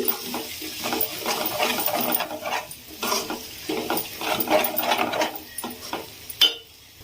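A spoon stirs coriander powder and coconut powder into a tomato egg curry in a pan, giving irregular scraping and clinking strokes close by with a faint sizzle underneath.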